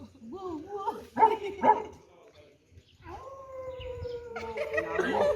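Workshop participants mimic a dog, first with a few sharp barks and yips, then a long, rising, wavering howl that grows louder, with other voices around them.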